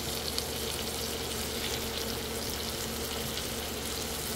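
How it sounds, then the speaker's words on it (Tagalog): Celery and carrot frying in a pan for Filipino pancit canton, a soft, steady sizzle with faint stirring, continuous and close, with no talking. "Para medyo maprito din sila."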